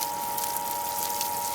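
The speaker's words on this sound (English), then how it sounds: "I basically start by just wetting the area" Water poured steadily onto dry grass mulch, a continuous close splashing rush with no pauses and no talk.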